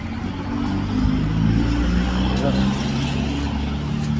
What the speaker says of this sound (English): All cars, no semis.